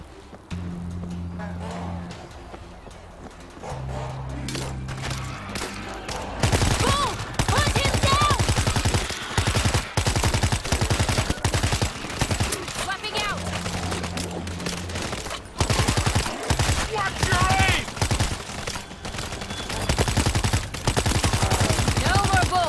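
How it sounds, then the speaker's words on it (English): Sustained machine gun fire in the game World War Z Aftermath, Marseille level, loud and relentless with dense rapid shots after a quieter opening, broken by brief pauses and punctuated by engine-like rumbles. "Machine gun set."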